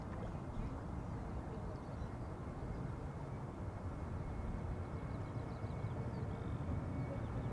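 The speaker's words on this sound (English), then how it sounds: "737 to London is already spooling up, coming this way." Low, distant roar of a KLM Boeing 737-800's jet engines spooling up for departure at Schiphol Airport, a steady faint rumble with no other sounds.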